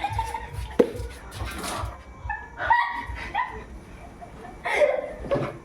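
A dog barks several times in short, scattered bursts at moderate distance, with household clatter and some indistinct background noise between the barks.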